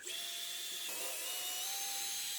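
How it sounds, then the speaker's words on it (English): A high-pitched power drill at full speed whines steadily at close range, its pitch shifting slightly partway through as it bores into a wall for a TV mount. "So I set my drill chuck to full throttle, then drilled out my first mark"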